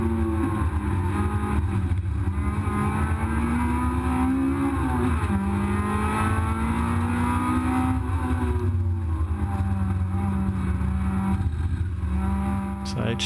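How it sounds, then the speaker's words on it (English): Race car engine at Brands Hatch, oil-starved and screaming at high RPM, howls loud and close without a break, its pitch rising and dipping through gear changes as the car threads past slower traffic. "this engine that's screaming its heart out does eventually blow up"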